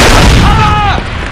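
Grenade explosion in the video game Far Cry 4, a loud, close, booming blast with a rumbling tail, over game sound with shouting voices.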